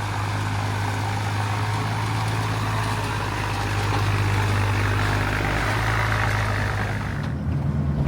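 A loaded truck idling on a farm in the rain, a steady low engine rumble with a constant deep hum underneath and a broad wash of rain or rumble noise above, continuing evenly for several seconds.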